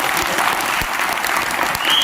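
An audience in a hall bursts into dense, loud applause, many hands clapping at once in a continuous wash that holds steady for the whole short stretch.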